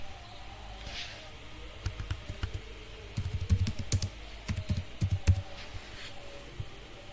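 Steady typing on a computer keyboard while a name is entered into a form, with irregular clusters of close, light key clicks that build into denser bursts partway through, over a quiet room hum.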